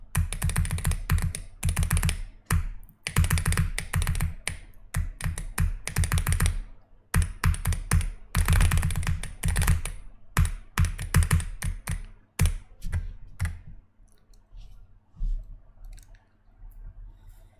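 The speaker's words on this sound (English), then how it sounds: "Why do I tap my keyboard loud?" Loud typing on a computer keyboard, rapid bursts of sharp, close clicking keystrokes with short pauses between runs, fading to a few sparse taps at the end, with no talking.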